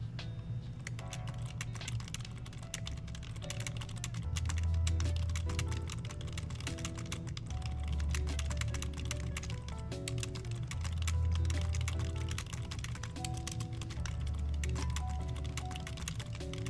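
Rapid, continuous computer keyboard typing during a typing race, dense fast clatter of keystrokes throughout, heard under steady background music.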